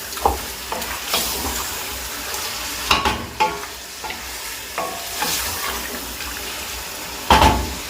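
Black pepper and spices roast in a pan for a kaleji masala with beef or mutton liver, giving a steady low sizzle broken by scraping stirs and clatters, with a sharper clank near the end.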